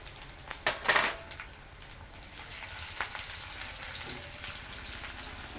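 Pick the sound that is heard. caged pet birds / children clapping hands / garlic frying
garlic frying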